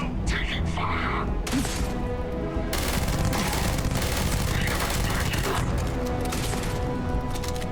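Sustained bursts of gunfire and heavy thuds from a Starfield firefight run almost continuously and loud throughout, with a voice talking over parts of it.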